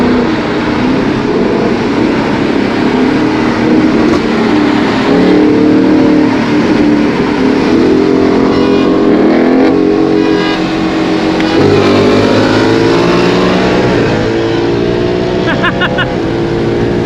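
Cars rush past at Eagles Canyon Raceway with a loud, close, continuous engine roar that rises and falls in pitch as vehicles pass and shift, filling the whole stretch without pause.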